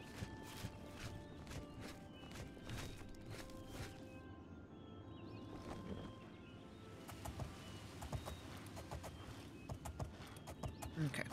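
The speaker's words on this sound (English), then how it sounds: "I wonder what the horse's name is." A horse in the video game Oblivion clops along in a quiet, low-level game soundscape, its rhythmic hoof beats mixed with faint ambient bird calls.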